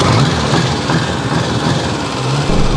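Engine of a 1954 Ariel Square 4 motorcycle running and revved lightly with a bit of throttle, a loud close steady drone with slight swells, no talk.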